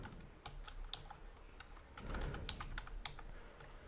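A search term being typed on a computer keyboard: quiet, close, irregular key clicks in quick runs with short pauses, alone and without talk.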